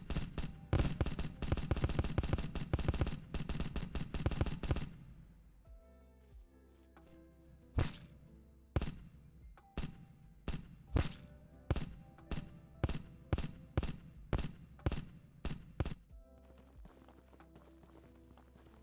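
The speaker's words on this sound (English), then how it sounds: "So I added hitmarker sounds in UI as well." Pistol gunfire in an indie first-person shooter video game: a dense burst of rapid shots, then a steady series of single sharp shots spaced about a second apart, each punchy and close, with small hitmarker ticks possible between them.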